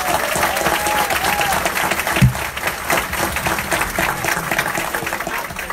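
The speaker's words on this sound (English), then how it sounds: "Please give me a round of applause." Audience applause at a Lorain ADC meeting, sustained and fairly loud, with faint voices murmuring beneath the clapping and one brief low thump partway through.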